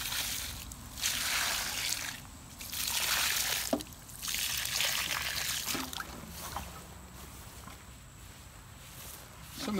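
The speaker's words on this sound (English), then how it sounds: "I'm just going to drench these with water." Water poured from a container over newly divided and replanted coneflower (echinacea) clumps in their pots, the same water they soaked in, making steady splashing and trickling bursts with short pauses between pours, close by with no talk.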